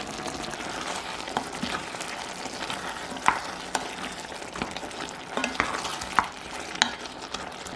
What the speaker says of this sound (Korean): 월계수잎, 바질가루, 고춧가루 넣어 대강 섞어주세요.